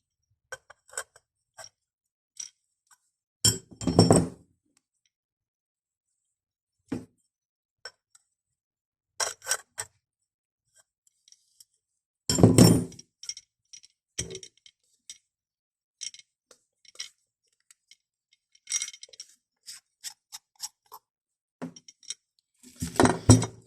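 Metal parts of a shower mixer tap are unscrewed and pulled apart by hand, giving sparse clinks, taps and scraping knocks separated by quiet pauses, close up and with no talking.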